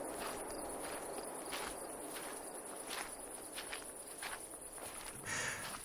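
Quick, soft footsteps patter at a steady brisk pace along a narrow dirt village path through the jungle, with crickets chirping faintly in the background.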